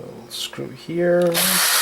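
A small screwdriver unscrews tiny screws while a compact digital-VHS-style camera is taken apart, with short scraping turns followed by a brief high whirring buzz, up close on a workbench.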